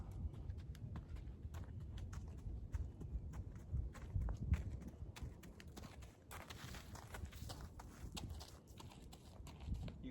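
A horse trotting outdoors during spring training, steady hoof clip-clops thudding in a quick even rhythm at moderate distance, with faint background noise and no speech.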